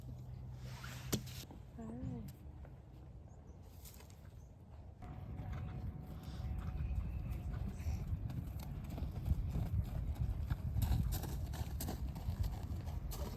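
Horse hooves clip-clop at an eventing horse show, steady footfalls near the microphone amid background chatter and movement, with a brief whistle-like tone early on.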